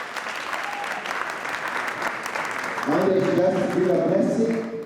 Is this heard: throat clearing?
no